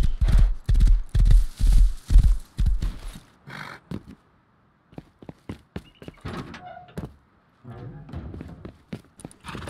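A horse fitted with horseshoes gallops in the survival game Rust, loud rhythmic hoofbeats pounding in quick groups, then slowing into scattered thuds and clops with a neigh and game sounds.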